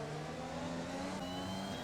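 An F1 car engine drones in the F1 2021 game around the Casino corner, a steady tonal whine held throughout at moderate level with no talking over it.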